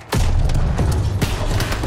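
A video game explosion in Call of Duty WWII erupts with a sudden heavy boom and then a dense, roaring rumble with a few thuds that fills the whole short moment, loud and close, without speech.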